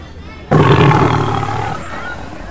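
A single loud, deep roar of a tiger bursts in abruptly and trails off over about two seconds.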